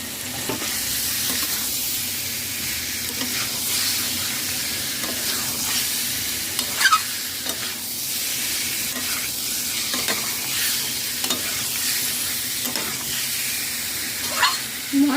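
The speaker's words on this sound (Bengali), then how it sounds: "মশলার সাথে ভালো করে নাড়াচাড়া করে নিলাম" Potato and soybean chunks, already fried, being stirred with spices in a hot pan while preparing a cauliflower curry, giving a steady close sizzle with repeated scraping strokes throughout and no talk.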